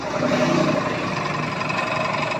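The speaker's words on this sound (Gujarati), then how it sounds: "તો આપણા વિશ્રામભાઈની ગાડી આવી ગઈ છે." A vehicle's engine hums steadily and fairly loud up close as it pulls in at a roadside tyre puncture and vulcanizing shop on Paliyad road, with no voices.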